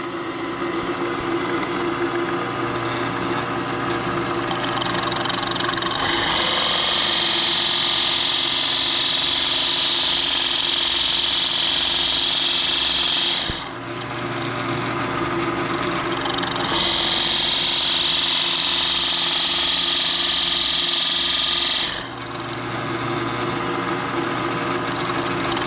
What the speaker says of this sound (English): I decided to drill a hole in it.